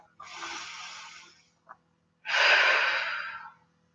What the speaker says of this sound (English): One more full breath.